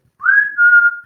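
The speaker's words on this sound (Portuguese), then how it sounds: "Era um menino que estava assobiando para o seu cachorro." A single clear whistle, a sustained tone held for about a second, close and alone in silence.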